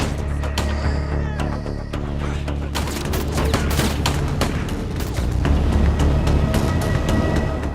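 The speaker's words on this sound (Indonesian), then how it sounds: "mereka langsung ditembaki oleh Bob Lee" Gunfire in an action film sniper scene, a rapid series of sharp shots and cracks with booming impacts scattered throughout, dense and loud with no voices.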